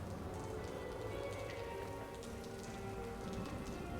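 Steady rain patters down continuously in the video game Watch Dogs, a dense, even hiss with no voices and no change in intensity.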